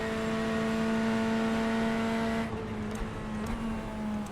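A faster-class race car in iRacing's Le Mans endurance race sweeps past with a loud, whining engine tone, then drops away abruptly after a few seconds to a quieter rumble of other cars.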